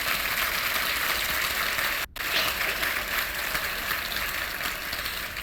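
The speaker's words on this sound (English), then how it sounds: "can we please give them a round of applause?" An awards luncheon crowd applauds past recipients, a dense, hissing roar of many hands clapping steadily, broken by a brief dropout near the middle before resuming at full strength.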